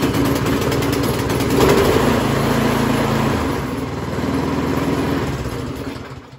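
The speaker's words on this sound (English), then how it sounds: "Fill it up with gas, you can always start it the same, same way, choke on, prime it, and you have a pull cord right here." A Troy-Bilt Storm 2410 snow thrower's small gasoline engine runs steadily and loudly up close, with a low buzzing drone that swells slightly in the middle and eases near the end.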